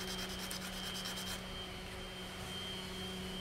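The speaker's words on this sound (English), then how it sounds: "I'm gonna come right here and sand this part now so we can keep it round." A wooden pencil-box part from a craft kit is rubbed back and forth on sandpaper, giving a steady, close, gritty scraping with faster strokes early on over a constant low hum.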